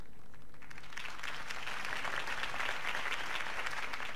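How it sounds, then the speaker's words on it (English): Crowd applause breaks out after a mayoral campaign speech in Batman: The Telltale Series, a dense, steady wash of clapping from many hands that swells and holds for several seconds without voices. "could have heard that applause"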